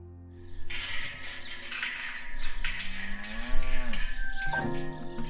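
Shorthorn cattle mooing, several long, drawn-out low calls that rise and fall in pitch, fairly close and loud over a steady farm background, with no talking.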